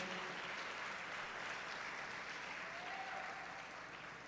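Sustained, dense applause from a congregation fills a church during a youth conference, loud and steady throughout before easing slightly at the end.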